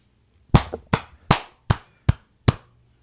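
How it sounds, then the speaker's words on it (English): Six sharp, slow claps ring out close by at an even, unhurried pace, each crisp and separate against near silence, like a small ironic round of applause. "That was like proper applause."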